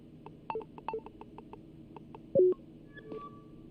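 Keypad number entry in the video game Lacuna: a series of short, evenly paced dialing beeps, followed by a brief louder tone and a soft chime, with no talking.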